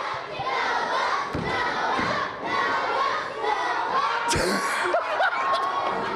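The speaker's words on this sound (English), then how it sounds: "Listen to the crowd." A sports crowd cheers and shouts with excited voices and whoops rising and falling, a few thumps and a whistle-like cry cutting through the roar.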